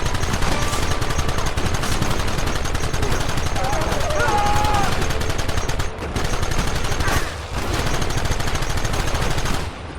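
Rapid gunfire crackles in Red Dead Redemption, dense bursts of rifle and machine-gun shots overlapping almost nonstop with brief gaps, loud and close, under shouted in-game voices.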